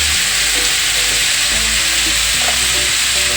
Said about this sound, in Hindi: आलू को 5 मिनट मैक्सिमम, 5 मिनट से ज़्यादा नहीं फ्राई करना है